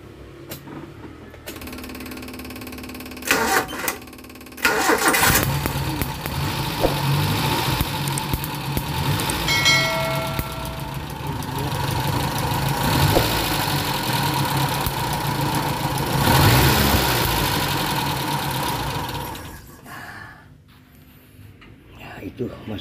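A Futura carburetor car engine with an ignition coil leaking spark to the coil bolt idles steadily and slightly unevenly. Voices talk over it.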